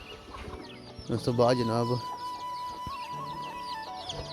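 Hen clucking on a farm, a short burst of harmonic squawks rising over background voices and ambient noise, with people talking nearby.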